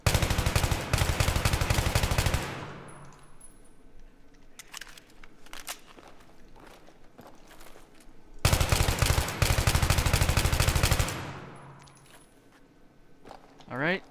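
Automatic rifle fire in Battlefield 3 empties a magazine in two long rapid bursts, loud and close, each ending in clinks and quieter handling sounds between them.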